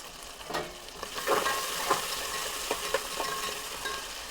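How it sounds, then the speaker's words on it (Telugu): Onion pieces fry and get stirred in a pan for tomato kushka rice, a steady close sizzle broken by scraping stirs. "ఇవి వేగినాక ఉల్లిపాయ ముక్కలు పచ్చివాసన పోయేదాకా వేపుకోవాలి."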